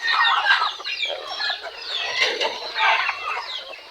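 Several chickens cluck and squawk close by on a farm, overlapping bursts of clucking with short pauses, no voices.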